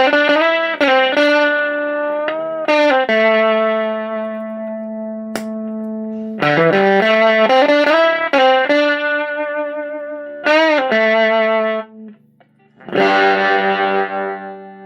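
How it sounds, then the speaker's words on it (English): Electric guitar played through an Indigo Labs 510-11 Valpro amp with a gated fuzz tone, loud buzzy chords and single notes that stop abruptly between phrases, ending in a thinner, rougher burst. "And this is more of a gated fuzz type of sound."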